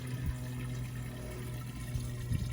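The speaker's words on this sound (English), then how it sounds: "put your water hose in there" Water from a garden hose pours into a buried clay olla, a faint, steady low gurgling and rushing that runs continuously with a few soft splashy bumps.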